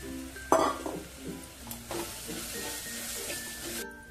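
Ground fennel, coriander and cumin sauté in a pan with chilli, garlic and ginger for a kachori filling: a sharp scrape of the spoon, then a soft sizzle with light stirring, no voices.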